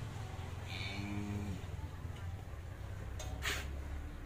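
Cattle on a cattle farm in Tra Vinh, Vietnam: a deep, drawn-out moo rises and falls over about a second amid faint farm background noise, followed later by a couple of brief sharp knocks.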